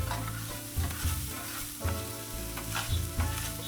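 Chili dogs sizzle and fry on a 22-inch Blackstone griddle, a close, continuous crackle punctuated by scraping and stirring strokes of a spatula on the flat steel.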